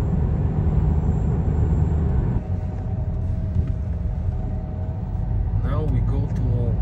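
A car drives along a forest road, giving a steady close engine and tyre rumble inside the cabin throughout, with a voice speaking briefly near the end.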